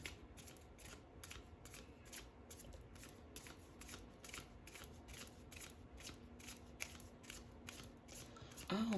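Tarot cards being shuffled and handled at close range, a steady run of evenly spaced crisp riffling snaps over a faint background hum, with no talk.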